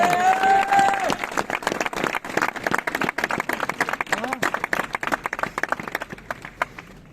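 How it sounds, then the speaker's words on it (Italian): Crowd clapping during a street procession climbing Via San Giuliano in Catania, scattered claps that start loosely and grow into uneven bursts, with voices talking over them near the start. "fate un grosso applauso,"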